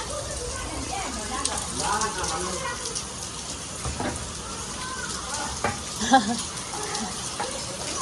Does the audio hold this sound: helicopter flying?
no